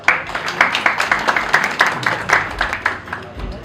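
A crowd applauds the seniors at a GD Goenka, Agra farewell event, rapid overlapping hand claps forming a strong steady patter that stays loud throughout, with a voice briefly audible underneath.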